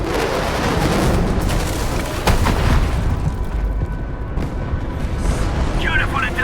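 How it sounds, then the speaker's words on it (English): Artillery strike from the UWST in the Arknights: Endfield video game: a loud, sustained rumbling boom with a sharp crack near the middle, trailing into a low roar with faint talk underneath. "UWST will fire at where you've marked."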